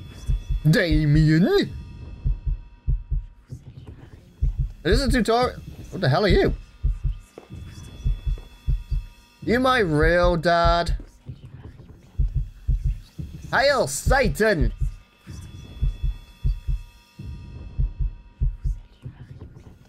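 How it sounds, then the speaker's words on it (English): Heartbeat sound effect in the video game Lucius, a steady low double-thump pulse continuing throughout while someone talks intermittently over it. "What's with the heartbeat?"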